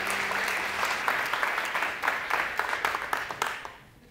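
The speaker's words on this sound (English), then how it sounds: "I want you to give a round of applause for Dr. Paula James" Audience applause for a speaker at a health sciences research talk, a steady crowd of clapping with distinct individual claps near the end before fading out.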